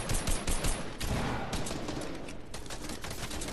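Rapid gunfire from the Fortnite video game rattles in dense, loud bursts, with overlapping shots that keep going steadily throughout and no talking.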